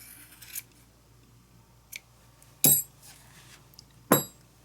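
Scissors snip a yarn tassel shorter in a few crisp, close cuts, with quieter handling rustles in between.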